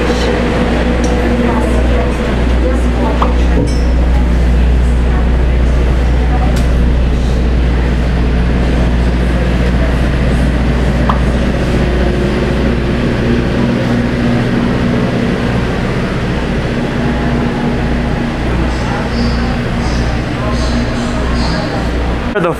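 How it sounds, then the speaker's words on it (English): A steady, low rumble of a PeruRail train bound for Machu Picchu fills the clip, with indistinct voices murmuring in the background throughout. "the first one on the PeruRail train"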